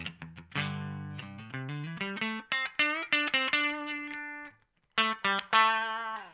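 Fender Stratocaster playing a clean tone on the neck pickup, a run of distinct plucked notes and chords with sustained harmonics, a short pause near the end before several more notes; close and alone, no talk.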